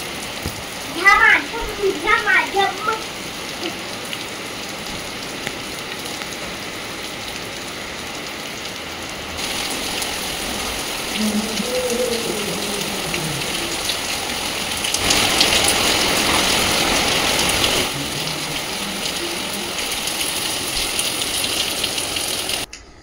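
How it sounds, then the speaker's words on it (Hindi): Heavy monsoon rain pours down in a steady, loud hiss that swells stronger toward the end, with voices talking early on and a low engine rumble in the background. "बरसात देखो कितनी तेज आ गई है, एकदम झमाझम"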